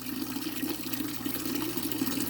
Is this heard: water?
yes